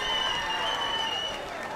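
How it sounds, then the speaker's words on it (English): Audience applause after a toast at a Nia celebration, a dense steady wash of clapping filling the whole short stretch at moderate level, with faint voices mixed in. "we want to give all of the Nia born and Nia babies a round of applause"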